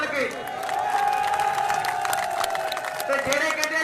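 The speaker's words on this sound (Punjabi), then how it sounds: "ਹੁਣ ਤਾੜੀ ਉਹ ਮਾਰ ਦੋ ਖੁੱਲ ਕੇ ਬਈ ਯਾਰ" A crowd at an outdoor Haryana versus UP shooting volleyball tournament in Kikrawali claps and cheers steadily for the whole stretch, a dense roar of applause with whistle-like shouts over it.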